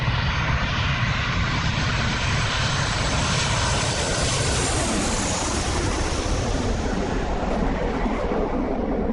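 Massive C-17 transport aircraft engines roar loudly and continuously as the jet operates on uneven terrain, a dense, steady broadband drone with no speech.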